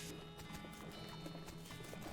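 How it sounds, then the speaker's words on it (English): A horse-drawn coach arrives in the game West of Loathing, with rapid, even clip-clop hoofbeats on a hard surface, fairly faint and continuous amid a busy background. "The coach is here."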